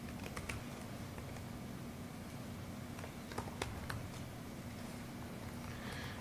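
Quiet typing on a computer keyboard during programming, scattered light clicks in short bursts over a constant low room hum, close but faint.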